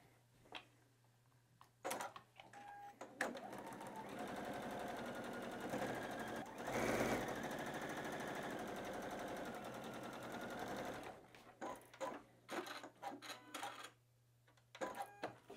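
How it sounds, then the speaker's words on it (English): A sewing machine runs steadily, stitching the center seam of a quilted heart block with right sides together; the motor hums continuously for several seconds, bracketed by shorter bursts of stitching and clicks at the start and end. "we're gonna go right down the center seam, right sides together"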